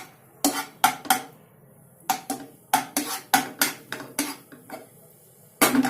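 Chopped garlic sautéing in a pan, heard mainly as a rapid series of sharp metallic clanks and scrapes of a utensil against the pan, close and fairly loud with short pauses, no voices.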